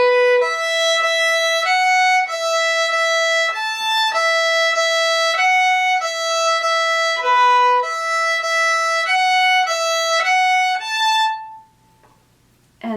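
Solo fiddle plays the repeated B part of Morrison's Jig, a lilting run of clear, bright bowed notes in steady jig rhythm, close and alone, ending with a held note and then near silence.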